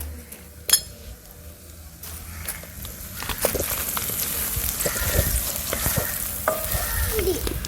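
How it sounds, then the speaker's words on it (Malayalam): Capsicum and carrot stir-frying in a pan for ginger fried rice, a rising steady sizzle with a spatula scraping and clinking against the pan throughout, plus one sharp knock near the start. "അപ്പൊ ക്യാപ്സിക്കവും ക്യാരറ്റും കൂടി നമുക്ക് അതിനകത്തേക്ക് ഇട്ട് കൊടുത്തിട്ടുണ്ട്"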